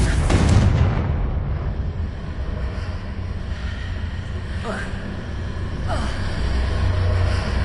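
A Confringo blasting spell goes off in Hogwarts Legacy on PS5, a loud burst that rumbles and decays over several seconds, with a couple of sharp crackling hits following amid game sounds.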